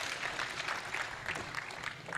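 An audience at the Kenya Space Expo 2022 claps steadily, a sustained, even patter of many hands filling the hall without cheers or voices.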